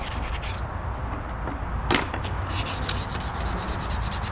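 Continuous rubbing scuff of 320-grit sandpaper worked along the edges of a part, a steady close-up dry rasp with one brief louder stroke, no talk.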